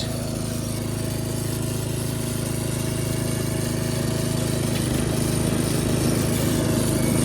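A Craftsman 13.5HP 30-inch rear engine riding mower runs close and loud, its engine a steady, unbroken drone with a slight rattle and a small shift partway through.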